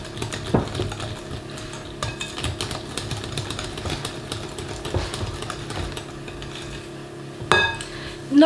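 A whisk stirs and scrapes muffin batter with apples, almonds and melted butter in a bowl, making irregular close clinks and knocks against the sides, with a louder clatter near the end.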